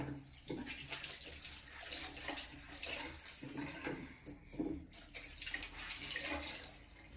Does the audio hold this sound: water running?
yes